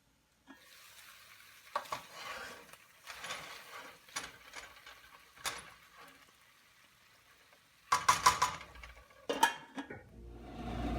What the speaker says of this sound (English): I'm going to make sure everything's stirred in.